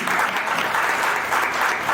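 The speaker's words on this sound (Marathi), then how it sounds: "सो पाठक परिवारासाठी पण एकदा जोरदार टाळ्या झाल्या पाहिजे" Loud, dense applause from a crowd at a family birthday party, honoring the Pathak family, steady and sustained throughout with no pauses.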